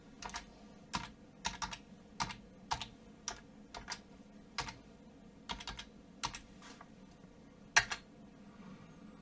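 A new password is typed on a computer keyboard in a quiet room, with irregular sharp key clicks in small clusters and a slightly louder final keystroke near the end.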